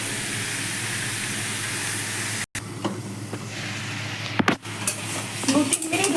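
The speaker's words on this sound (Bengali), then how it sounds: "এবার এই লো হিটে আমি সবজিগুলো আস্তে আস্তে ভাজার জন্য সময় নিয়ে ভাজবো।" Vegetables fry slowly on low heat in a pan for a shrimp and stem chachchari, a soft steady sizzle broken by a brief dropout and a few clinks and stirring noises toward the end.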